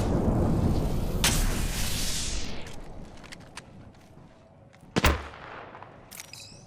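A frag grenade blast in the Apex Legends video game: a loud, broad rumbling explosion that decays over about two seconds, followed by a few sharp gunshot-like cracks and scattered game effects, with no speech.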